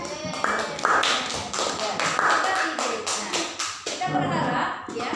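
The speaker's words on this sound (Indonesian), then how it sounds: "Oke, tepuk tangan." Children clap their hands together in a classroom, a run of sharp, closely spaced claps in a loose rhythm that carries on for several seconds, with some voices mixed in.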